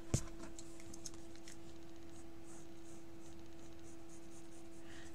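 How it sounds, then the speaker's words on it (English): Pencil lines being erased on an insect illustration of a wedge-shaped beetle, a soft, steady rubbing and scratching that runs throughout at close range and low level, with a faint constant hum behind it. "But we'll go ahead and erase it because that's fine."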